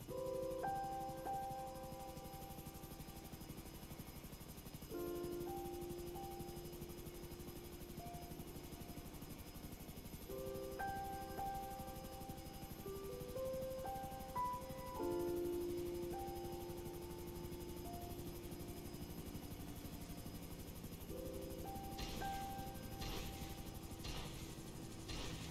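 Helicopter in the video game GTA V, a steady low rotor drone running the whole way under game music with repeating melodic notes, with a few sharper bursts near the end.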